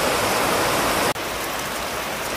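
Steady, dense rain hisses close by without a break while cooking outdoors over a pot, with a single brief dropout partway through.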